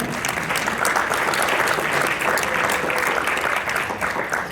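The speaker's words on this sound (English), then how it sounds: "Can we get another round of applause for Dina?" Enthusiastic audience applause for a speaker at a productivity talk, a loud, continuous wash of many hands clapping that holds steady for several seconds, with faint crowd voices mixed in.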